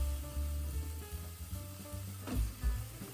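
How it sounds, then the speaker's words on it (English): Soft, continuous sizzle of chicken frying in a pan, with low rumbling and a brief louder crackle near the end; no talking. "Start frying the chicken before adding in the veggies."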